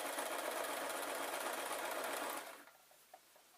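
A sewing machine stitches the fabric of a travel pillow in one fast, loud, continuous run that stops abruptly after about two and a half seconds, leaving a few faint clicks.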